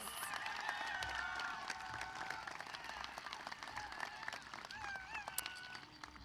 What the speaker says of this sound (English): Can we have another round of applause for Chef Garces?